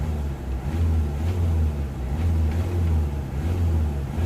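A Kia Venga 1.4 CRDI diesel engine with a suspected blocked EGR valve hums low and steady, swelling in a few gentle revs as the throttle is pressed, heard close and with no voices.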